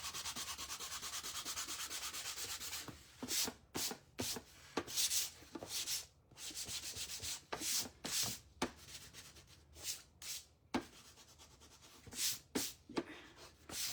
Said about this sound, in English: now this one, I'm going to kind of sand it off